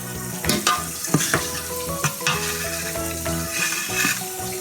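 Pakoras fry in hot oil with a steady, close sizzle and crackle, while occasional louder pops and bubbling bursts stand out over a tonal background.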